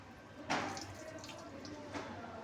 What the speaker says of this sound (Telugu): ఇప్పుడు చక్కగా నీళ్లు పోసుకున్నాడు, చక్కటి నీళ్ళు